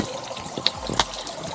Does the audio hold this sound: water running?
yes